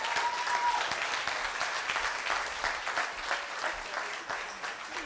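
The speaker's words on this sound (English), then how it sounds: "Let's keep clapping for her." Sustained audience applause at a TEDx event at Nile University of Nigeria, a dense steady wash of many hands clapping after a talk, with a faint voice underneath.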